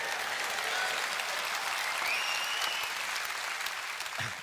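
Conference audience at a Reform UK event applauding, a broad, even wash of clapping from a large crowd in a hall that continues unbroken for several seconds, heard at some distance, with a faint whistle partway through.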